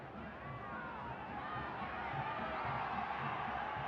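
A football stadium crowd at a Concacaf Central American Cup match between Real Estelí and CAI, a steady broad roar of many voices that swells slightly, sounding distant and continuous with no single voice standing out.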